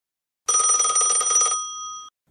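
A telephone rings once in a comic scene. It is a loud, bright electronic trill lasting about a second, followed by a fading tone and then silence.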